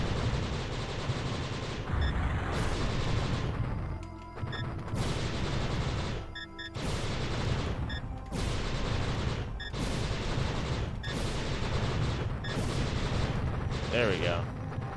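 Bursts of heavy gunfire in a Sega Saturn video game rattle out in repeated loud volleys, roughly every second and a half, with short gaps between them.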